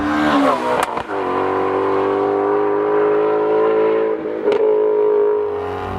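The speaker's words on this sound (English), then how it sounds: "for the most part NA and high revving, and that's exactly what the Mustang is" Ford Shelby Mustang GT350 with a naturally aspirated engine revving, a loud, close, sustained engine note holding steady for several seconds with a couple of brief dips and no talk over it.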